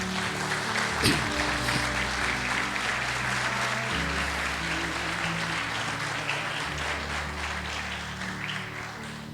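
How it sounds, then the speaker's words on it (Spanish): A church congregation claps steadily through an evening sermon, dense sustained applause filling the room over low held tones, staying strong the whole way without pause. "Den un aplauso al Señor en esta noche."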